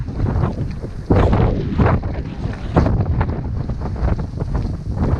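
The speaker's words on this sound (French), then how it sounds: "Oh le vent." Strong wind buffets the microphone in loud gusts during a gravel bike ride along the Seine, a constant rushing roar with several sharp blasts, heard outdoors with no talking.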